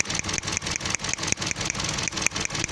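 A Toyota Vios engine with a misfire idles close by with a steady, rhythmic chugging pulse, no voices over it.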